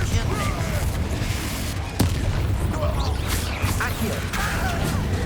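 Confringo explosive spells burst repeatedly in Hogwarts Legacy, a dense run of close booms and crashing impacts with a sharp crack near the two-second mark, under a busy, loud combat din.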